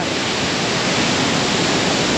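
Kanchenjunga Falls gives a dense, unbroken roar of falling water, loud and close, with spray filling the air and no gaps.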